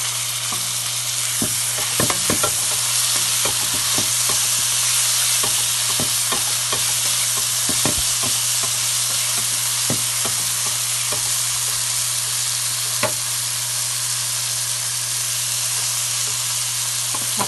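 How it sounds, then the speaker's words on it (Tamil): Tomatoes sauté in a pan for a chicken curry with capsicum, giving a loud, continuous sizzle and hiss with brisk spatula scrapes clustered early, then a steadier frying roar, with no talking. "தக்காளி வதங்கட்டும்."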